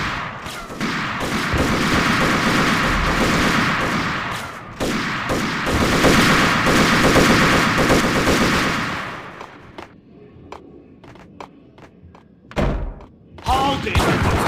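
Heavy gunfire in Max Payne, sustained bursts of rapid shots with thumps for about nine seconds, then quieter scattered shots and a few loud isolated bangs, with some voices in the mix.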